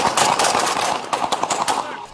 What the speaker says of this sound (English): Within seconds, you hear 3 gunshots.